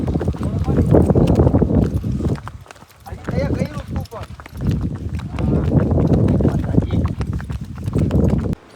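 Hooves of several horses clip-clop steadily and close by on a group ride, a continuous rhythmic clatter that eases briefly before picking up again, with voices heard over it.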